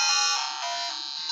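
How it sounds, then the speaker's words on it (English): Nintendo Game Boy Color startup beep: a bright, loud, sustained electronic tone that shifts pitch once early on, then holds steadily alone for over a second. "when it gets that Nintendo beep"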